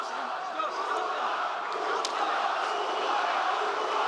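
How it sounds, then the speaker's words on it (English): Broad, steady roar of an arena crowd at a UFC fight inside Etihad Arena, continuous and fairly loud throughout with a slight swell toward the end, no distinct voices standing out. "Pro Nurmagomedov crowd here inside the Etihad Arena."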